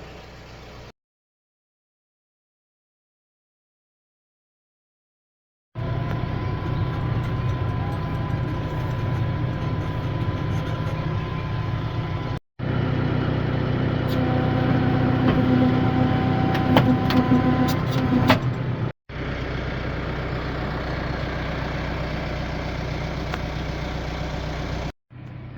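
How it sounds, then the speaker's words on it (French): A tractor engine idles on a farm before silage is distributed to cows, a steady low droning hum with a constant pitch that runs in long unbroken stretches, broken by a few brief gaps and silences. "J'ai démarré le tracteur ce matin parce que je vais distribuer la remorque d'ensilage dans la foulée"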